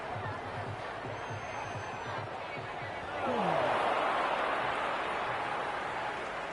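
Crowd buzz from the stands in Cricket 26, a steady broad hubbub of many voices that swells louder midway, with a commentator talking over it.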